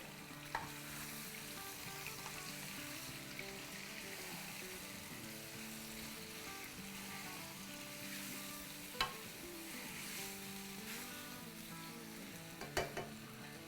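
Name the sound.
garlic and ginger paste frying in oil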